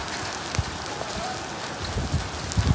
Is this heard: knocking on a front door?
no